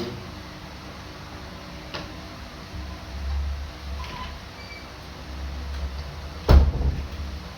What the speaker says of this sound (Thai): ปิดประตูไว้ก่อน